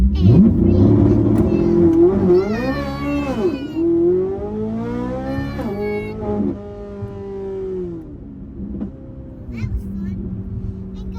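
Chevrolet Corvette C8 on drag radial tires launching, its engine revving hard through rising and falling pitch sweeps as it pulls through gears, loud and close, with a voice speaking over part of it.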